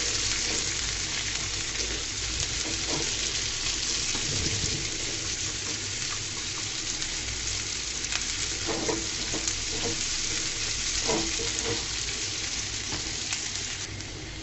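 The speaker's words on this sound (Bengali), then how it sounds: "পেঁয়াজটাকে আমি হালকা করে ভেজে নিব" Onions fry lightly in oil in a pan with a steady, dense sizzle that holds at an even level throughout, with faint stirring knocks and no talking.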